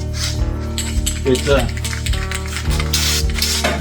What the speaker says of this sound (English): You can't really turn the can upside down. It doesn't spray great.